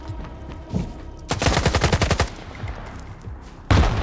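Gunfire in the video game Stalker 2 during a jump shot: a dense rapid burst of automatic shots near and loud, preceded by a single report and followed by another sharp shot after a short pause.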